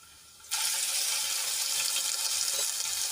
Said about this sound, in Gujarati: અને પેસ્ટને આપણે થોડી તેલમાં સાંતળી લઈશું